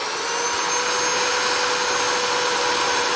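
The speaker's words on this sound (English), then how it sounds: "I'm going to get a drill and a sanding pad" A steady, loud whine of a drill driving a sanding pad on wood, running without pause, an even high-pitched buzzing hum.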